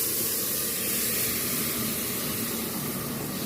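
Strained fish stock made from fish bones and prawn heads hits a hot roux, giving a steady, close hiss of sizzling that holds throughout without talk.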